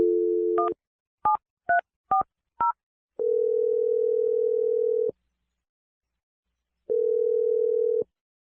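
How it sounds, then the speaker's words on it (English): A landline telephone handset gives a steady dial tone, then a quick series of about five touch-tone dialing beeps, followed by two long ringback tones separated by silence, all clean and close with no voices. "I'm going to dial Abby's number right now"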